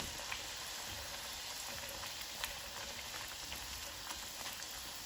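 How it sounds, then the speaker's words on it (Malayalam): Masala puris deep-frying in hot oil give a steady, dense sizzle, soft and even throughout with small crackling pops and no voices. "പൂരികൾ ചുട്ടെടുക്കട്ടെ. അങ്ങനെ എണ്ണ ഞാൻ പറഞ്ഞ പോലെ അങ്ങനെ എണ്ണ പയ്യെ തട്ടി കൊടുക്കുക"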